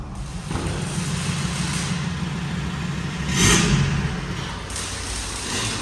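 A 2015 Ford Ranger 3.2 with a modified downpipe and diffuser, its engine running with a steady rumble and one short, louder rev swelling in the middle before settling back.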